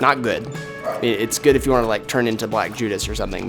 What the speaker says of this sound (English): Sorry if you heard my dog barking in the background.